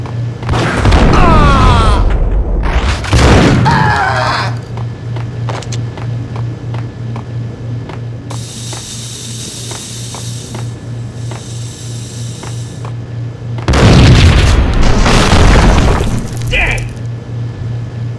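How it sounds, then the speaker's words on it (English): Explosions and crashes in the video game Max Payne: heavy booming bursts near the start and again later, with a continuous low mechanical drone and scattered clatter between them. "I thought it was a bomb for sure."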